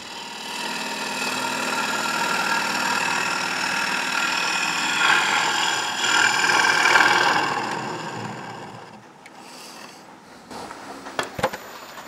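Wood lathe spinning steadily while turning a cup from a mango wood slab, a continuous motor hum and whir that runs unbroken for most of the stretch, then drops away near the end to a few knocks and taps.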